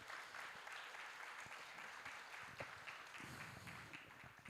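Applause fills a panel discussion on water responsibility, a fairly distant, even patter of many hands clapping that carries on for several seconds without pause.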